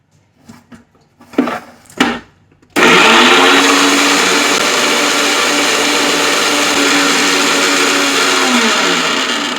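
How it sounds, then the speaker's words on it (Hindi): Mixer grinder blending cooked, cooled apple into baby food: a loud, steady motor whir starts after a few seconds of quiet handling knocks and runs continuously to the end. "तो इससे भी मैं ग्राइंड कर लेती हूँ।"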